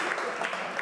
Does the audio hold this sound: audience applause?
yes